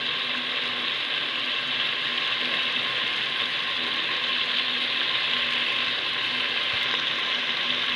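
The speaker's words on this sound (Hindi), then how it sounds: "चिकन को हम 10 मिनट भून लेंगे।" Chicken pieces coated in masala fry and sizzle in a pot for a Punjabi-style desi chicken curry, a steady, even crackling hiss with no pauses throughout.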